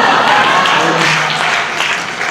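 Loud, dense applause from a live audience at a German stage show, filling the room with even clapping that fades slightly toward the end.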